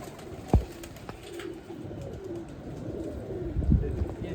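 Pigeons coo softly and repeatedly at close range, with low rolling calls and a few wing flutters or knocks in between, set among racing pigeons in a loft.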